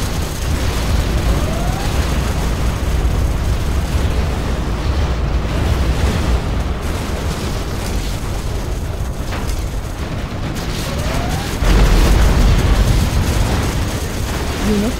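Nuclear missile explosion in Command & Conquer: Generals – Zero Hour, a sustained, roaring rumble of blast and debris that churns continuously and swells with a heavier boom near the end.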